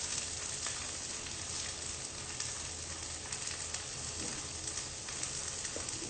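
Food frying in a pan gives a continuous, even sizzle with faint crackles throughout, close and moderately quiet, and nobody speaks over it.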